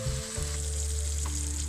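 Spice masala for kofta curry cooking in a pan, a close, steady sizzle over a low continuous hum, with faint stirring touches.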